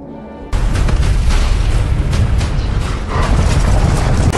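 Sand blasts up behind people fleeing across a desert toward a war vehicle in a monster film, a sudden loud boom followed by a sustained, heavy rumbling roar of debris and effects.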